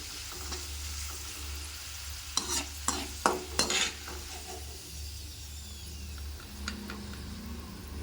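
Potato chips fry in hot oil with a steady, soft sizzle throughout, broken midway by a few sharp clattering scrapes as the chips are stirred.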